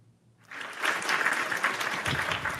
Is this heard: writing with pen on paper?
no